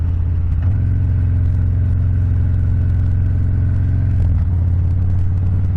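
A Harley-Davidson Softail Fat Bob with repacked mufflers runs loud and close, a deep, steady exhaust rumble that swells briefly twice, with no voices.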